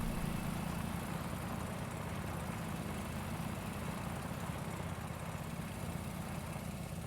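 A John Deere tractor engine in Farming Simulator 22 labors under a heavy load of weight, giving a steady, loud, low droning rumble that holds without break throughout.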